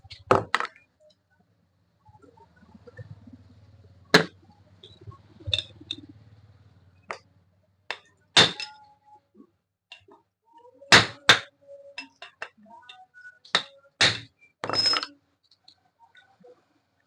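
A hammer strikes the head of a Texmo submersible pump motor to loosen it, giving a series of sharp, separate metallic knocks at irregular intervals, with a low hum in the first seconds and quiet pauses between blows.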